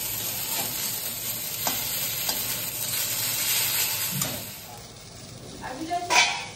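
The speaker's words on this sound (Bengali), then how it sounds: "বেগুন ভাজা হচ্ছে বন্ধুরা" Eggplant slices fry in a home kitchen pan, a continuous close hiss of oil with a few soft clinks and scrapes of a utensil, the sizzle easing toward the end before a brief louder rattle.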